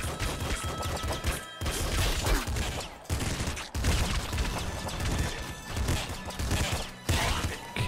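Shotgun fire in the game Nuclear Throne comes as loud, dense, repeated blasts and crashing impacts, one after another with short gaps, under layered game sound and no talking.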